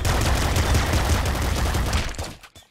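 Rapid bursts of bouncer SMG fire from the Nuclear Throne video game, a dense, loud volley in tight corridors that rattles on for about two seconds, then cuts off into brief silence.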